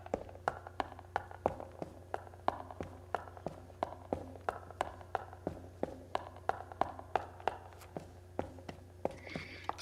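Hard footsteps on rock in the video game It Takes Two: crisp, clicking impacts in a quick steady walking rhythm, close and clear over a faint low background hum.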